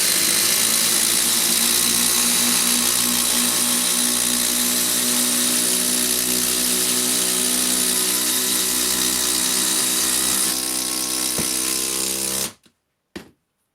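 Impact driver sinking galvanized 14-gauge 200mm batten screws, a loud, close, continuous buzzing hammer lasting about twelve seconds before cutting off abruptly into near silence.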